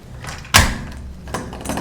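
A door being opened and pulled in a townhouse rental, one loud close thump or latch clack followed by a quieter scrape and a rattle, with no talk.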